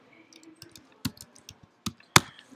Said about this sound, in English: I am going to just type in Chicago